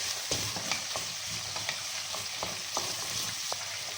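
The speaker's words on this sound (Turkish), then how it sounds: "Bunu da karıştıracağım. Salçanın ve soğanın kavrulmasını sağlıyorum." Tomato paste and onion sautéing in butter in a pan, stirred with a utensil that makes scattered scrapes and taps over a steady, soft sizzle.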